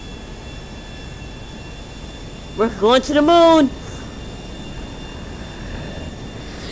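Airplane engine in flight in the GTA V video game, a steady low, even drone running throughout, briefly overlaid by someone speaking in the middle.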